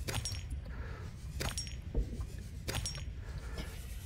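Copper ore being grabbed in the video game Subnautica Below Zero, three crisp metallic clinks spaced about a second apart over a soft underwater background.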